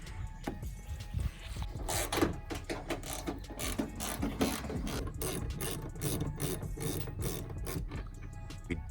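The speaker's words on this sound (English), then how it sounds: "did have to remove everything, all these bolts" Ratchet wrench clicking rapidly as bolts are removed on a Dodge Ram during a rock light install, with close, bursty bursts of sharp pawl ticks and short pauses, no talking.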